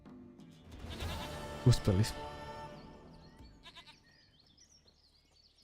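A goat in The Witcher 3: Wild Hunt bleats twice in quick wavering calls over in-game sounds, with someone speaking briefly in the clip.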